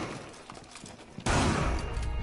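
Gunfire in Rainbow Six Siege, a sudden loud burst of shots through a wall that cuts in partway and carries on as a dense, continuous volley to the end.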